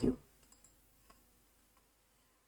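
Keyboard keys pressed while entering values in SketchUp 3D modelling software on a computer: one louder click at the start, then a few faint, sparse taps spread over a couple of seconds in a quiet room.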